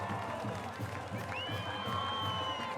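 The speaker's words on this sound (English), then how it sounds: "That's one way to get the crowd going" A high school football crowd cheers after a touchdown, a sustained roar of cheering and whoops with a whistle-like tone rising through it, and an announcer talking underneath.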